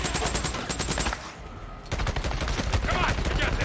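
Rapid automatic gunfire from newly acquired weapons in the video game Days Gone, dense bursts of shots filling the clip with a brief lull in the middle before firing resumes, loud and continuous.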